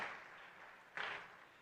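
Crowd applause at the grand opening of an agricultural exhibition in Nagpur, faint and broadband, swelling briefly into a louder burst near the end before settling back.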